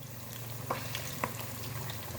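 Spicy masala fish pieces frying in hot oil in a pan, a steady close sizzle with a couple of brief stirring clicks and no talk.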